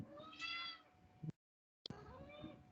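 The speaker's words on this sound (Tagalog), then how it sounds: "Sabi ng pusa ko, meow." A cat meows twice, close and clear, with a brief silent gap between the calls, in a quiet room.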